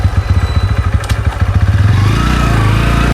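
Bajaj Pulsar N125 motorcycle pulling away after the clutch is released, its single-cylinder engine thumping in rapid low pulses that climb steadily in pitch as it accelerates, close and loud with no talk.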